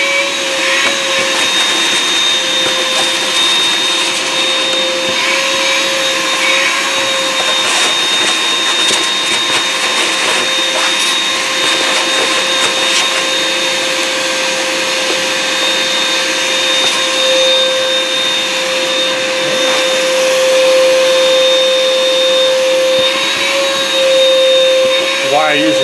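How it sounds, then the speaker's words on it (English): A shop vac runs steadily and loudly the whole time, a constant whine with a steady drone beneath it, close by and alone. "Okay, so here we go. Shop vac going."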